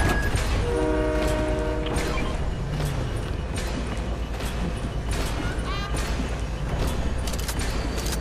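A train rolls past in the Fortnite video game, its horn blaring near the start over a steady, loud rumble of rail noise. Players talk over it throughout.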